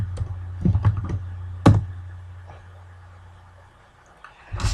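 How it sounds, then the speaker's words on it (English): A handful of keystrokes on a computer keyboard tap out in short irregular clusters, faint and close, over a low steady hum, ending with a slightly louder clatter of keys. "I have to type over here"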